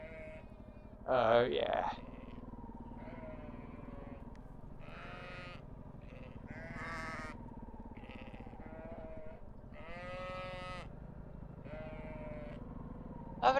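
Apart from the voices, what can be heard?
sheep bleating while being walked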